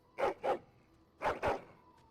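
Dog barking in the Dragon Age video game, four sharp close barks in two quick pairs separated by a short pause, clear and alone.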